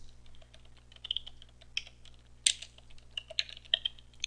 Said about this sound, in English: Type any password you like. Confirm it by retyping and hit enter.